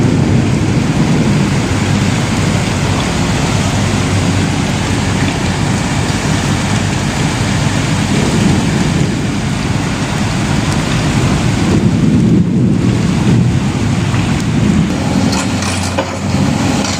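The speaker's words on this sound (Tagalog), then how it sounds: "lakas ng kidlat" Heavy rain pours in a thunderstorm, a loud dense roar with deep thunder rumbling through it, continuous and close, with no one speaking.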